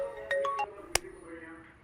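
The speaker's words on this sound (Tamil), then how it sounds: "சசி இந்த ஃபோன் எடு" A mobile phone ringtone chimes a few quick rising tones close by, followed by a sharp click, the whole thing lasting under two seconds.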